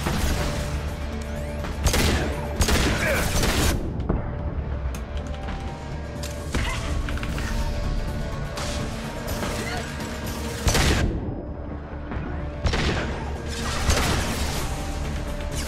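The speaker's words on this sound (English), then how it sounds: "And they like to really shoot me through the walls." Enemy gunfire in the shooter Mass Effect 2, with gunships nearby, comes as bursts of loud crackling shots and crashes through walls, rising and falling over a rumbling game soundscape.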